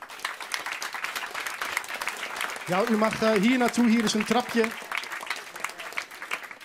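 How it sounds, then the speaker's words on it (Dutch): Audience applause for Theo Hiddema runs continuously, with a voice speaking over it in the middle section as the clapping carries on beneath. "Applaus voor Theo Hiddema."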